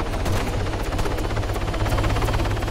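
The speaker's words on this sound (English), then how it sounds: "Who's in that chopper?" A video game helicopter's rotor chops in a fast, even pulse under a loud, continuous engine roar, close and steady throughout.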